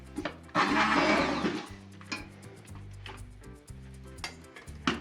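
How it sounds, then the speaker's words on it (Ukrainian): An immersion blender whirs in bursts, its motor pulsing and catching as it purées boiled vegetables, including zucchini, in a pot, with clinks against the container. "Зараз я проб'ю їх блендером погружним."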